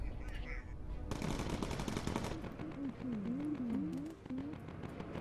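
Rapid bursts of aircraft cannon fire rattle in the video game Bomber Crew, dense and loud at first, then continuing under a voice with whistling engine tones.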